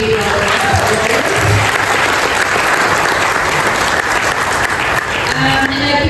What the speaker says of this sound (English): I think we should give her another big round of applause.